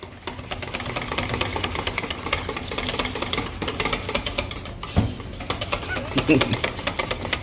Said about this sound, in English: we're gonna whisk this for about 8 to 9 minutes